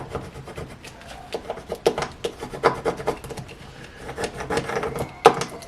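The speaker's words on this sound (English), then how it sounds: "now I'm just going to take my Cricut scraper, scrape it on there good" A Cricut scraper rubs and rasps vinyl down onto a craft tumbler, giving close, uneven scratchy strokes with a few sharper scrapes near the end, no talking.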